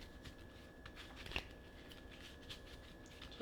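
Playing cards are shuffled by hand during a Yu-Gi-Oh Rokket Dragon Link deck test, a soft close riffle and rustle of cards with a brief sharper snap midway, quiet and without speech.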